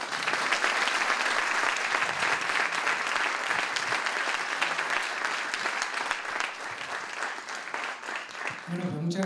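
Sustained applause from an audience at a conference fills the room, a dense steady patter of many hands clapping, tapering off as a voice begins at the end.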